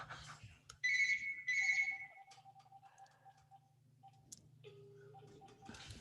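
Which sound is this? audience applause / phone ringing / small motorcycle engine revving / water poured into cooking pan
phone ringing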